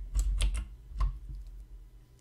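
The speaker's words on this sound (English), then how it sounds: "hit Ctrl+C on your keyboard" A few sharp key clicks on a computer keyboard, two or three quick taps followed by a single press, close and fairly quiet, with no voices.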